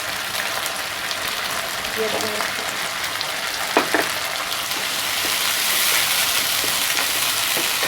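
A spice paste of ginger, garlic and tomato sauce fries in a pan with a dense, steady sizzle that grows louder near the end. A few utensil knocks sound partway through.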